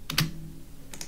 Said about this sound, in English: So what I need to do is type in slash blend.